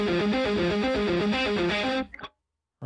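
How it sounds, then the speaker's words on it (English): Heavily distorted guitar chugging a repeated riff for about two seconds, then cutting abruptly to silence, played through an Axe Machina distortion effect. "I guess let's try maybe the distortion."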